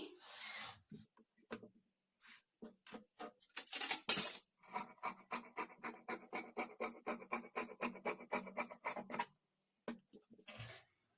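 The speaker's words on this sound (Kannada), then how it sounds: "ಎಕ್ಸ್ಟ್ರಾಸ್ನ ಕಟ್ ಮಾಡಿ ತೆಗೆದುಬಿಡ್ತೀನಿ" Scissors snip away the excess fabric edges of a blouse in a quick, steady run of crisp cutting strokes, close and fairly quiet, with a few scattered handling rustles before and after.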